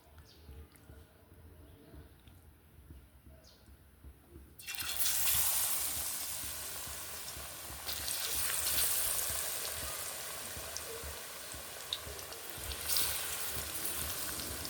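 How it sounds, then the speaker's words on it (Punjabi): Battered potato pakoras dropped into hot oil in a kadhai. The oil is quiet at first, then bursts into loud, steady frying and sizzling that keeps bubbling and crackling close by. "ਹੁਣ ਅਸੀਂ ਕੜਾਹੀ ਦੇ ਵਿੱਚ ਪਾਵਾਂਗੇ ਆਲੂ ਜਿਹੜੇ ਕਿ ਘੋਲੇ ਸੀ"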